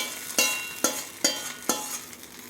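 A spoon scrapes and stirs a tempering sautéing in a pan for chutney, four sharp, evenly spaced scrapes over a soft sizzle, close up with no voices.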